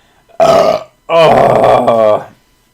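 Two loud, close burps in quick succession, the second longer and drawn out, with silence before and after.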